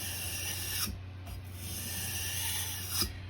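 A steel knife blade is worked against a whetstone to raise a burr, giving a steady, close scraping rasp with a few sharper stroke accents and no voices.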